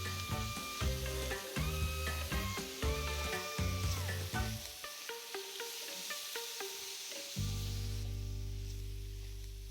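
Shrimp for tacos sizzle and fry in a hot pan, a steady hiss running under louder tonal background music throughout.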